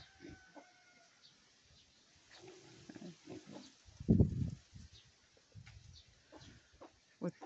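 Pigs on a farm, a young boar lying asleep beside its mother, give soft grunts and snorts, one louder grunt standing out, while someone talks quietly over them.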